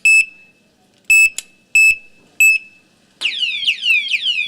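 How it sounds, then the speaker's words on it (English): A padlock alarm blares: four sharp high beeps, then a rapid warbling shriek, loud and close, rated at 115 decibels. "So the alarm sounds pretty loud."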